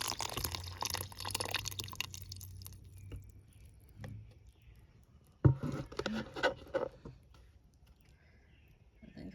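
Liquid drained off fermenting chicken feed pours into a container, a soft patter and trickle at close range that fades, then a brief clatter and a few wet splashes before quieting.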